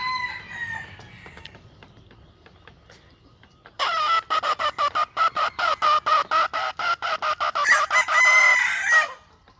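Hens cluck softly at first, then a rooster, a young cockerel kept for breeding, crows loudly and close in a long, rapidly pulsing call on a hot day, with more fowl calling through the end.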